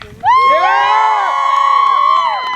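A crowd at a jousting games event cheers and whoops loudly for a jouster about to ride with a lance, a close burst of shouting voices that rises sharply and holds for a couple of seconds.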